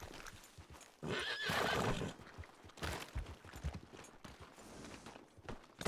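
A horse in a western video game whinnies loudly and close, its neigh rising over the steady clip-clop of hooves that continues throughout.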